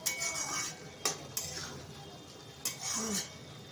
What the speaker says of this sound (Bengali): আমি এরপরে ঢাকাটা খুলে দেখি সিদ্ধ হয়েছে কিনা।